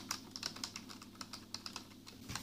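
Fingers tap quietly across a plasticky Lenovo Calliope USB keyboard, producing a steady stream of soft, clicky keystrokes at close range with no voices.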